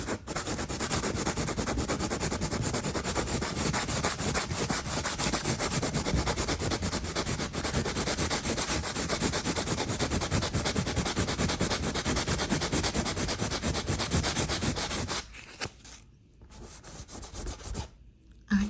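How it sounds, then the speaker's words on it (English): A patched hole in wood is sanded by hand, a steady close scratchy rubbing that runs continuously for a long stretch before breaking into a few short pauses and final strokes. "I will sand this."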